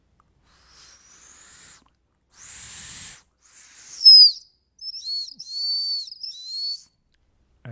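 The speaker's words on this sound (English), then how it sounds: "It's a plastic whistle." Several short, high-pitched whistle toots from a small plastic whistle, some breathy and warbling, separated by brief silences.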